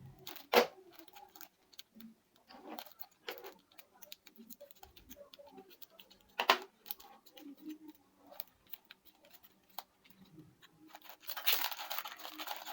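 Scissors snip away the excess plastic from a packaging bag, giving a few sharp, quiet cuts with light crinkling in between and short pauses. No one speaks.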